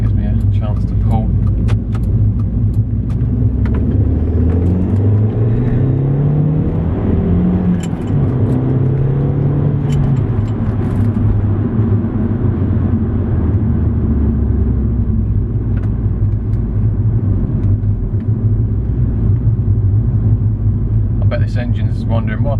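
An Audi S3 8L engine drones and rumbles as the car is driven around a roundabout with trucks nearby, its pitch rising and falling steadily as it accelerates and shifts gear, close and continuous throughout.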